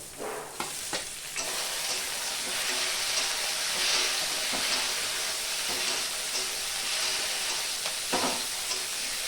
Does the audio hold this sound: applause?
no